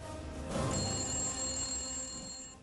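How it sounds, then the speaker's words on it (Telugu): A telephone rings with a steady, high electronic trill, fairly quiet and continuous, with no voices. "ఫోన్ మళ్ళీ మోగుతుంది చూడు"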